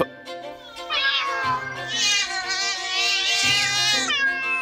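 Several cats meow loudly and insistently up close, long drawn-out overlapping yowls rising and falling with no talking.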